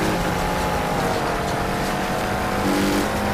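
Cars roar through a race in the Wreckfest video game, a dense, steady wall of loud engine drone and revving that continues unbroken from start to finish, with no voices over it.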